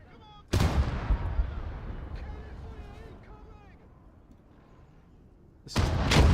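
Heavy gun blasts in the World War II strategy game Gates of Hell, two loud booming shots separated by a long decaying rumble, with faint battlefield noise in between.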